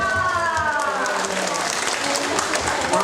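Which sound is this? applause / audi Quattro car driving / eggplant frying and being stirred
applause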